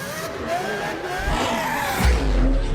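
A Pininfarina Battista electric hypercar with four motors launches on a quarter-mile run, a rising whine with tire noise that builds toward a loud rumbling rush near the end.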